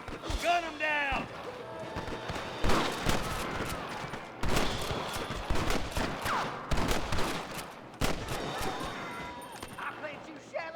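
Gunfire rings out in Red Dead Redemption as repeated sharp shots and bursts, loud and close, scattered irregularly over several seconds, with voices speaking between them.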